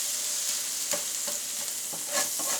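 Frozen hash browns fry on a hot griddle with a steady, bright sizzle, punctuated by a few scraping stirs from a spatula, close up and with no voices.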